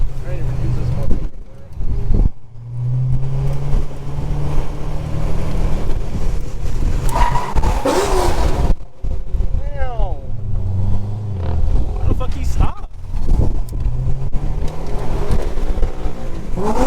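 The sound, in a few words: car sliding / drifting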